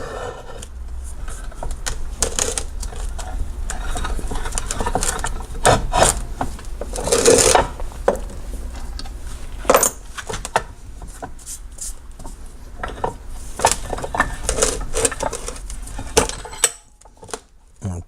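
A screw is driven back into place with gritty, rasping rubbing in repeated bursts over several seconds, close and fairly loud, with brief pauses between turns.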